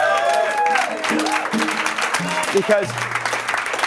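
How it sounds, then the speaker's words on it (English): Applause from the audience at a live jazz show at the Lizard Lounge, a small club, fills the room under someone speaking over a microphone. "can we have one more round of applause"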